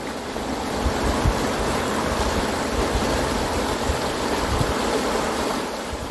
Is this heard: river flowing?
yes